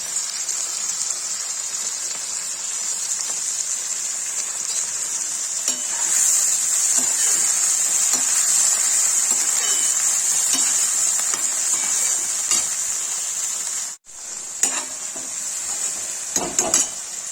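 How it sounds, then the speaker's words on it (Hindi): Amritsari chole masala sizzling hard in a pan as it is stirred, a loud continuous hiss with scattered spoon scrapes, a brief break near the end and then a few clinks, no talking. "इसमें नमक डाल दिया है, इसको चलाएंगे।"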